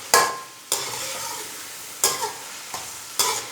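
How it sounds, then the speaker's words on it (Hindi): Onion with ginger-garlic paste sizzles in a pan, and several distinct stirring scrapes punctuate a steady low frying hiss, with no talking. "अब इसे और मज़ीद भूनेंगे जब तक प्याज और लहसुन अदरक का कच्चापन दूर ना हो जाए"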